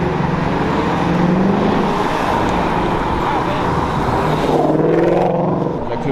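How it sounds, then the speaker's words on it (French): Lizard-green Porsche GT3 RS driving past at a car event, engine and road noise swelling and fading with a second pass near the end, under someone talking in French. "Encore une GT3 RS en vert lézard cette fois"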